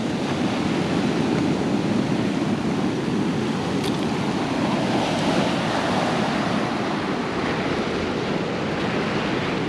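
Ocean waves washing onto the rocky coast at Bodega Bay in California, a steady broad roar of surf with wind buffeting the microphone throughout, constant and loud with no voices.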